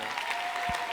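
An audience at a prayer marathon breaks into a burst of clapping, a dense, steady patter of many hands.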